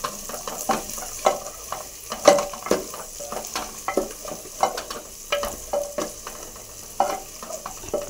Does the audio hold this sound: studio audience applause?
no